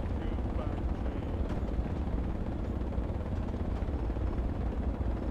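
Transport helicopter in Project Reality, a steady, muffled rotor and engine drone that holds at a constant level throughout.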